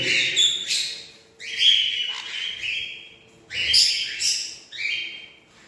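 Birds chirp and tweet in bright, repeated bursts close by, with short pauses between calls, as they bathe on neem leaves in light rain.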